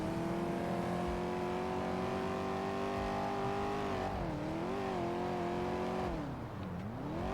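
A car engine in a video game drones loudly and steadily at high speed through traffic, its pitch dipping and rising a few times near the end with no talking.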